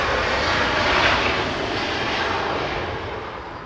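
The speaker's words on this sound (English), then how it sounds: "We're gonna have a SkyWest go past the screen" A SkyWest airliner rolls past at Los Angeles International Airport, its engine roar a loud, broad, steady rush that swells slightly and then eases off, with no voices.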